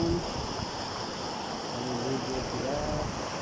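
Rushing water at a riverside bathing spot, a steady broadband roar with people bathing nearby and voices talking over it.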